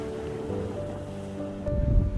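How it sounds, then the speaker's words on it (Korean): Ocean waves breaking outside a harbor breakwater, a steady washing roar with wind, swelling louder toward the end, no voices. "아까 보니까 파도가 엄청 많이 치죠"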